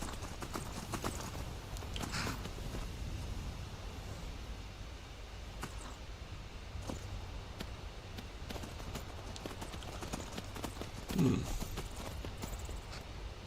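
Steady clip-clop of horse hooves trotting at an even pace in the video game Skyrim, with a faint low rumble underneath and a brief louder knock near the end.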